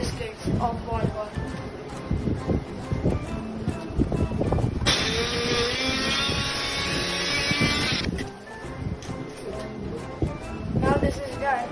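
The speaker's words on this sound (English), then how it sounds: "Now we will grind all the pieces of all the biscuits of BOURBON" An electric grinder whirs steadily for about three seconds, crushing pieces of Bourbon biscuits, its high buzzing drone standing out amid kitchen clatter and a voice talking before and after.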